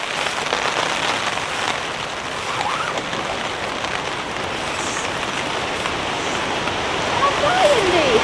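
Heavy rain pounds steadily on a tent during wild winter weather, a dense continuous hiss that grows slightly louder near the end, with a voice faintly present.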